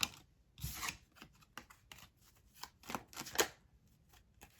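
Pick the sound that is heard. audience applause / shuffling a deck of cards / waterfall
shuffling a deck of cards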